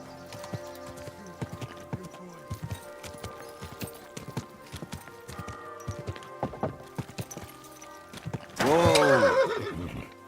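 Horse in Kingdom Come: Deliverance II, hooves clip-clopping steadily at close range, then a loud drawn-out neigh bursts in near the end over a faint background.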